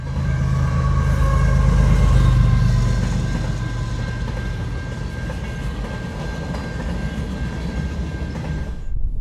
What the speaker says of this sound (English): This train also had brand new hoppers in the middle and a CN GEVO as mid-DPU.